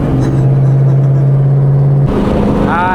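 A car accelerates hard while chasing a tow truck, its engine holding a loud steady drone that shifts abruptly near the end into a rising whine, heard close and continuous.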